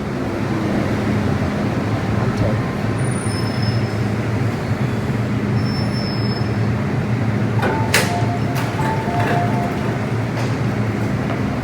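A first-generation M-train rumbles steadily into Kwai Hing Station with a continuous low roar, brakes squealing faintly near the end as it slows to a halt.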